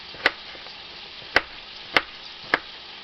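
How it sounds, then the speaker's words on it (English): Four sharp knife strikes on a cutting board chopping an onion for chili, evenly spaced but unhurried, close and crisp over a faint steady background hiss. "this is how I'm cutting the onion up in the end"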